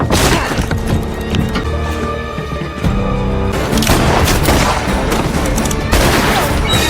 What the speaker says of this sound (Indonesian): si Abah berhasil menembak lengannya Carlton Briggs